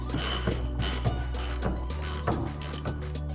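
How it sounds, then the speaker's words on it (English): A ratchet works a welded nut off the end of a part on a Honda Civic, with loud close rapid clicking strokes in a rhythmic series over a low hum, no talking. "So what we're doing now is just removing this nut off the end."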